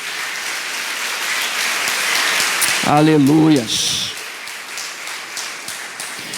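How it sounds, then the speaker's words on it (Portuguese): Applause from a church congregation answering a pastor's call to praise God, a soft rain-like patter of many hands, with a voice calling out briefly in the middle and the clapping fading slightly afterward. "Você pode dar um forte aplauso a esse Senhor Todo-Poderoso."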